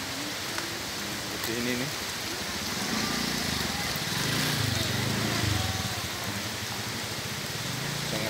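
Swift water rushes steadily at a spring source feeding the Krueng Daroy river in Banda Aceh after heavy rain, a broad continuous roar heard close, with someone speaking over it briefly.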